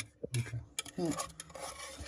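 A cheese soufflé mixture is scraped and poured from a small saucepan into another dish, with irregular metallic scrapes, clinks and stirring sounds close by, and brief voice fragments.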